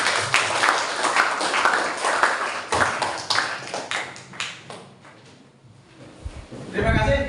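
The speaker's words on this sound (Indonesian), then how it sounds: "Beri tepuk tangan." Classroom applause from a group of students, dense and sustained clapping that fills most of the stretch before tapering off, with a voice speaking near the end.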